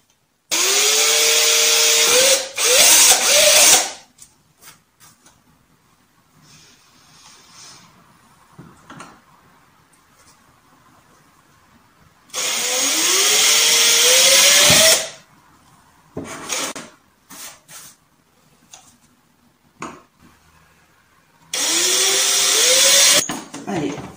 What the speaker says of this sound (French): Je vais prendre une petite mèche toute fine là qui est en fait peut-être pas pour le bon matériau